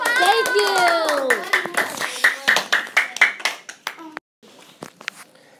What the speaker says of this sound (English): Round of applause for Ben